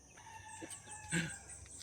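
A chicken clucks a few times in short bursts, with one louder squawk partway through, over a quiet outdoor background.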